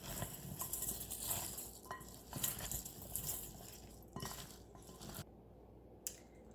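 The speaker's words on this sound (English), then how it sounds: "Mix it well." Punjabi mixed pickle being stirred with white vinegar, giving soft wet squishing and dripping sounds in an uneven rhythm, close up and fairly quiet, with no talking.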